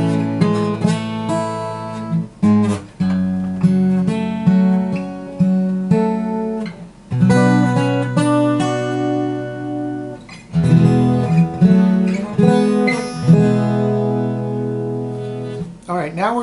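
Guitar fingerpicking of a song, notes picked one after another on strings 6, 4, 3, 4, 2, 4 in a slow, rolling pattern, ringing and overlapping, with brief pauses between phrases and no voice.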